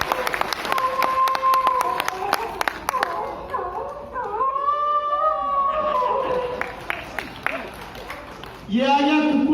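A man uses only his voice to imitate a dog, giving yelping, howling and barking cries one after another, with bursts of crowd applause and laughter.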